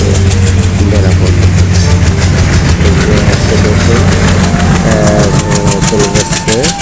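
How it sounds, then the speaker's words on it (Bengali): A train pulls away from Mongla railway station, its engine droning loud and close with clattering wheels and rhythmic rail knocks, carrying passengers toward Benapole. "খুব দ্রুততার সাথে ট্রেনটা কিন্তু চলে যাচ্ছে"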